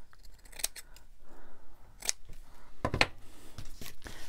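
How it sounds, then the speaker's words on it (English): Red workhorse scissors snip paper for junk journal ephemera, with a few sharp, close blade snips spaced out over a quiet background. "The workhorse scissors."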